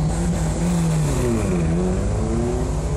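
A Lancia rally car with an Aguet-prepared engine of about 220–230 horsepower revs hard and close, its droning engine note rising and falling in pitch as it accelerates, loud and continuous.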